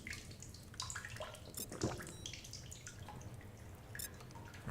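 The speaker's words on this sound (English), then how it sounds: "Water bottles are full." Water bottles fill from a source in The Solus Project, a close, splashing trickle with drips that swells and fades across the span, with no talk over it.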